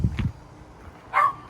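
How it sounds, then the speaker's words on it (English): A dog barks at an RV campsite: a couple of quick low woofs at the start, then after a pause a single sharper, higher yip or bark, close and fairly loud, with no talking. "He can't help it, he just barks."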